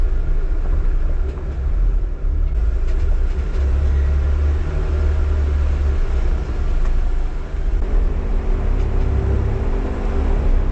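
A Jeep on a narrow canyon shelf road in Canyonlands reverses into a switchback, its engine a constant loud low rumble with crunching and creaking underneath throughout.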